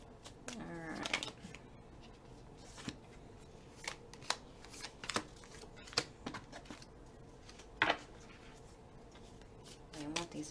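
Tarot cards being shuffled by hand, soft flicking and riffling bursts with sharper snaps at irregular intervals, quiet and close, with a brief murmur of voice near the start.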